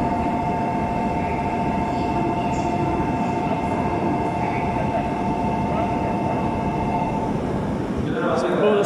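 A bullet train at Omiya station gives a steady, loud, broadband roar with faint tonal whines running throughout, ending in a brief brighter squeal, and no clear talk is heard.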